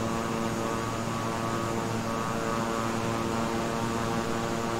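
A King Air 350i twin-engine turboprop in Microsoft Flight Simulator drones steadily, its propeller and engine hum constant and loud with clear tonal harmonics and no talk.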